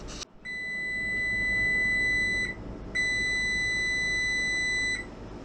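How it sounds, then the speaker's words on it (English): A kitchen timer, used while baking a meatloaf, beeps in two long, loud, high-pitched electronic tones separated by a short gap, with no talking. "that timer's going off again"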